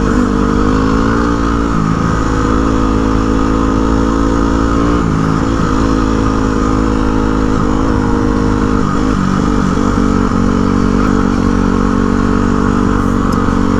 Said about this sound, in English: we got a nice group of bikes with us, about 20 or so people